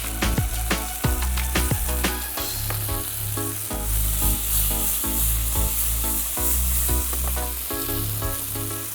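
Cauliflower florets hiss and sizzle steadily in hot oil for cauliflower manchurian, with occasional stirring clatter, all under continuous background music.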